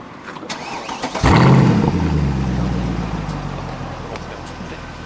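A Mercedes C63 AMG with a modified exhaust and its valve open starts up: a sharp loud burst of ignition, then a deep rumbling idle that slowly settles and fades over several seconds.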